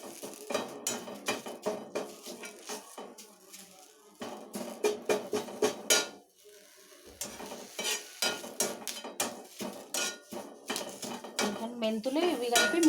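Fenugreek seeds and curry leaves dry-roasted in a pan for homemade hair oil, with frequent scraping and stirring clatters of a metal spoon against the pan in uneven bursts, a brief pause midway.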